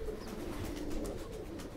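A fancy pigeon, a short-footed bandum-type bird in a loft, gives soft, low, muffled coos that blend into a quiet background hum over a brief moment.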